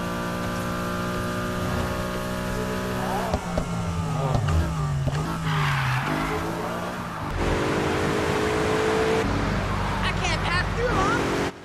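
Cars drift in the racing game Need for Speed Heat, engines revving steadily with squealing tires rising near the end, all beneath a narrator's voice.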